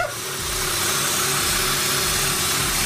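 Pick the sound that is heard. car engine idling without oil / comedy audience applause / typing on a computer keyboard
car engine idling without oil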